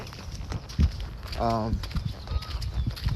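A horse gives a short, voiced nicker among soft hoof thuds, with a person speaking nearby.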